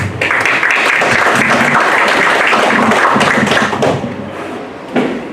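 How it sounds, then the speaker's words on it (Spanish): A conference audience at a Peruvian superior court event applauds loudly, a dense sustained clapping that fills the room for about four seconds before tapering off, with a brief final burst. "vamos a recibir con fuertes palmas al doctor Rafael Ugarte Mauni"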